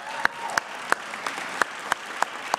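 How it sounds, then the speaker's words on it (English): At a city council meeting, faint, evenly spaced hand claps come at a steady beat of about three per second, sharp and distinct over a quiet room. "I just want to give them a big round of applause"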